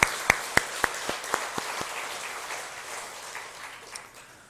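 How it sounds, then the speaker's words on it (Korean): A church congregation claps together: several sharp, evenly spaced claps lead into broader applause that fades over a few seconds. "우리를 구원해 주신, 우리나라를 해방시켜 주신 하나님 앞에 우리 큰 박수로 한번 다시 영광을 돌리겠습니다."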